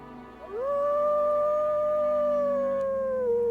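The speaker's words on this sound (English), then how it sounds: "so he will howl" A wolf in WolfQuest lets out a single long, sustained howl that rises, holds steady and tapers, loud and clear over a faint low background.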